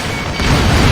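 A vehicle blowing up in the jet combat game Ace Combat Assault Horizon, heard as a loud, dense rumbling explosion that swells and sustains through the moment.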